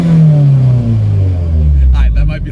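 Car engine revving at a car show, loud and close, a deep falling roar as the revs drop, with voices talking over it near the end.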